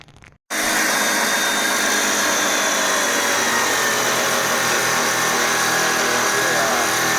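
A power tool cuts through a section of a GMT400 K3500 truck, starting abruptly after a brief quiet moment and then running as a loud, steady high-pitched grinding whine throughout, close up with no speech.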